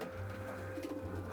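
Pigeons in a long-distance racing loft coo softly and steadily at close range, a low continuous murmur of several birds with no talk.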